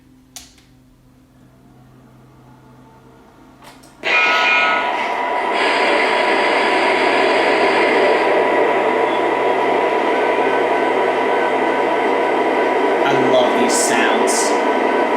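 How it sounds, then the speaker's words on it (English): A steady, loud rumble and hum of a running Lionel Legacy Norfolk Southern SD80MAC model locomotive on a layout, starting abruptly after a few seconds of quiet and continuing evenly throughout. "So let's head into running our train today"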